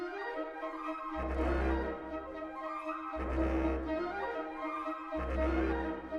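Sonokinetic Capriccio woodwinds play a soft, fairly quiet arpeggio pattern that repeats in three phrases, with a warm low bass note entering under each phrase.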